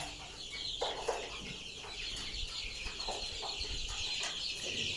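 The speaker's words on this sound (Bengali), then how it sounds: "এই যে মাশাআল্লাহ সবগুলা মোরগ আমাদের সুস্থ আছে।" Chickens and roosters on a poultry farm cluck in a steady, busy flock murmur, with scattered louder clucks rising over a constant background hum in the shed.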